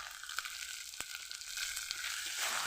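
Taro pieces fry with salt, turmeric and Kashmiri chilli powder while being stirred in a pan, a short, close sizzle with a few scraping stirs.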